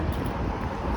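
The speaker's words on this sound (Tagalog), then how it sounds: "Hangin lang." Steady, loud wind blusters outdoors in Canada, a continuous rushing roar that buffets the microphone from start to end with no other sounds standing out.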